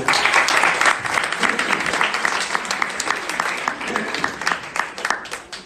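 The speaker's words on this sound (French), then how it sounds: "Allez, on l'applaudit pour encore." Audience applause at a live masterclass session, a sustained burst of many hands clapping at close to moderate distance, fairly loud and continuous for several seconds.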